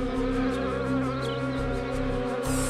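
A dense, steady drone of many honeybees buzzing together in a hive, continuous and fairly loud throughout, with no voices.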